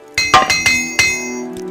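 Hammer repair strikes on equipment in the Morrowind video game: four or five sharp metallic clanks at an irregular beat, ringing briefly with a bell-like tone, loud and close with no talking.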